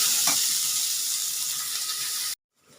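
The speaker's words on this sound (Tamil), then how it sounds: "இப்போ இந்த வெங்காயம் நல்லா ஃப்ரை ஆகட்டும்" Onions frying in a pan with curry leaves give a loud, steady broadband sizzle that runs unbroken for over two seconds, then cuts off abruptly into near silence.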